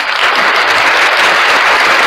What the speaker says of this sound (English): Let's give him an applause for that one.